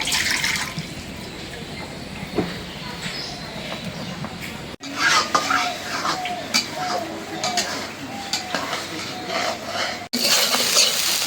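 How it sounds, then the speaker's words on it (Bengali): An egg frying in a pan with stirring, a steady sizzle with scraping and clinking of utensils throughout, broken by two brief cuts. "এই যে ভাজা ভাজা করতেছি"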